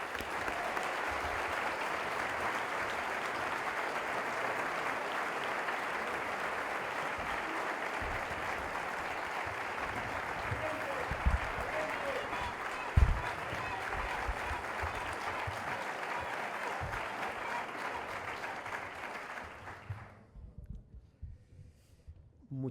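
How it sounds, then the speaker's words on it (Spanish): Sustained applause from an audience at a political event in a hotel hall, steady and dense for about twenty seconds before tapering off and dying away near the end. "os pido un fuerte aplauso para él"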